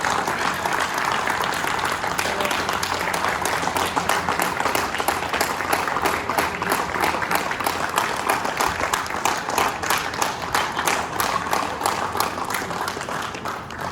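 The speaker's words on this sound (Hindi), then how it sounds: "आप सबसे अनुरोध करूंगा खड़े होकर तालियों की आवाज" Sustained applause from a standing audience at a retirement ceremony, dense, even clapping holding steady for many seconds with a faint murmur of voices underneath.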